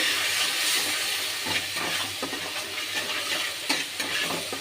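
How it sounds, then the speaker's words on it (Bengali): A spiced mixture with chilli powder and ground black pepper sautéing in a pan, giving a steady close sizzle with stirring scrapes throughout and no voices. "একটু ভালো করে কষে নেব।"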